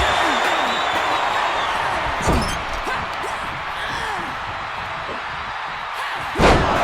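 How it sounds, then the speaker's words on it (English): A wrestler is slammed head first onto a steel chair during an independent pro wrestling show, giving a heavy impact thud over steady crowd noise and commentary, with a second louder slam near the end. "Oh, and slammed down head first onto the steel chair."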